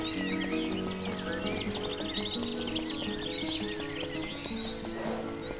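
Foal whinnying and neighing in the horse game Mein Pferd, several high whinnies and hoof clip-clops over steady background music, close and fairly loud, no talk.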